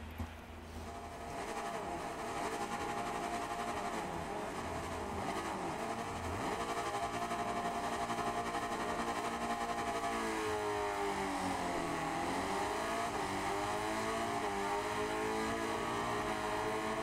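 A 500cc racing motorcycle engine in the game Ride 5 at the Snetterton circuit drones steadily at high revs throughout, its pitch rising and falling with gear changes, loud and continuous with no talk.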